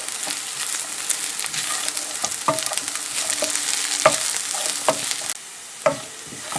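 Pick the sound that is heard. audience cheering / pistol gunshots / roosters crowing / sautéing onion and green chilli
sautéing onion and green chilli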